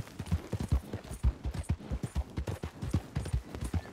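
Horse hooves clip-clop at a steady trotting rhythm in Red Dead Redemption 2, each strike loud and close, repeating evenly with no talk over them.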